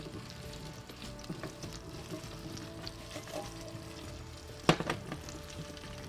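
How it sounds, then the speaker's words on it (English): Potatoes frying in hot oil with spices for aloo posto, a steady close sizzle with occasional stirring clatter and one sharp utensil knock near the end. "Try and get everything coated in the oil and the spices, and then we're gonna let this fry for about 5 minutes."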